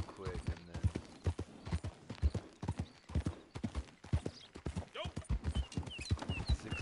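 Horse hooves gallop in a steady clip-clop rhythm while riding in the Red Dead Online video game, running under near-continuous talk from a player throughout.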